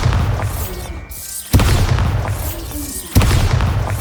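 Bombarda explosion spell from Hogwarts Legacy, two loud booming blasts about a second and a half apart, each with a sharp onset and a rumbling tail over steady game noise.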